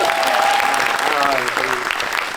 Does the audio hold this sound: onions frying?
no